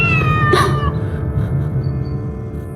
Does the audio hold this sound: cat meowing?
yes